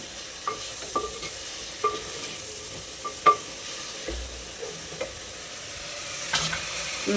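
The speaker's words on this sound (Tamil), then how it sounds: "இந்த இஞ்சி பூண்டோட நல்லா கலந்து விட்டுடலாம்" Ginger and garlic sauté in hot oil for a cauliflower curry, with a steady faint sizzle broken by distinct, sharp scrapes of a spoon against the pan every second or so, with no voices.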